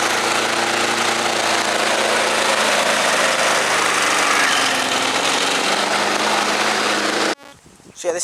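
A lawn mower engine runs at a steady, loud, buzzing drone for about seven seconds, then cuts abruptly as a voice begins speaking.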